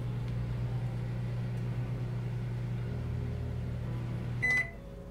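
A microwave oven runs in the video game My Friendly Neighborhood as a steady low hum for several seconds. It ends with a short, bright beep as the cycle finishes, and no one speaks.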